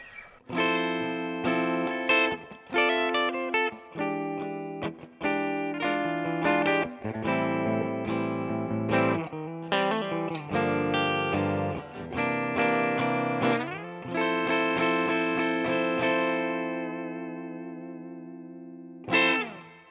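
A bright electric guitar, a PRS Private Stock Hollowbody II on its bridge humbucker pickup, plays strummed chords and picked notes with chorus and slight echo, ending on a sustained ringing chord with a final strum.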